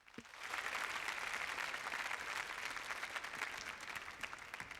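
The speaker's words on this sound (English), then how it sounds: "So applaud yourselves real quickly, please, for real." Theater audience applauding after a short pause, a sustained burst of many hands clapping that swells quickly and holds at a steady level, heard from within the hall at moderate distance.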